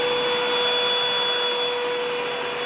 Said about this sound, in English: Quite often the Hoover doesn't get them all.